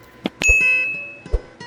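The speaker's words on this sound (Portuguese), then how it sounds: "Também ative o sininho para receber as notificações das próximas postagens" A bright notification bell chimes alone, with a clear ringing tone that lingers for about a second after a couple of soft clicks.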